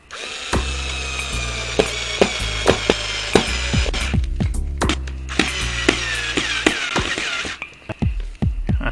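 A Pretec screw gun drives a screw with a loud whirring motor, punctuated by rapid ratcheting clicks and sharp knocks, running nearly continuously for several seconds before winding down, close up with no talk.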